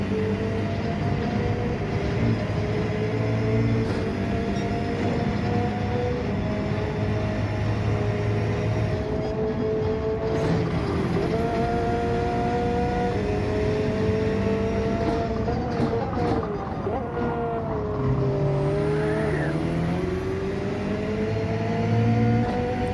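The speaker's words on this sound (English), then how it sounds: "You can always tell the sound of the BRZ." A Subaru BRZ sports car drives on track, its engine droning steadily and close. The pitch rises and falls as it accelerates and shifts gears over a constant road roar.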